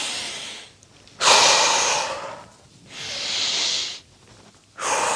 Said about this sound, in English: Good, big breaths.